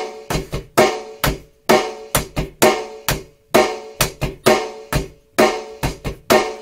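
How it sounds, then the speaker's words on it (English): Basic rock beat on a drum kit, hi-hat paired with bass drum alternating with hi-hat and snare, crisp close hits in a steady repeating groove with no voices. "So what I did there is a hi-hat with a bass drum, and then a hi-hat with a snare"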